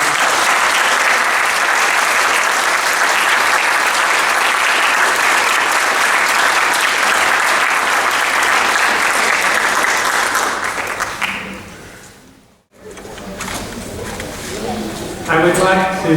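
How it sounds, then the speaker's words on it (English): An anniversary history showcase audience gives the panelists loud, sustained applause that fades out near the end, followed by a brief pause and then people talking. "Let's give a round of applause for our panelists."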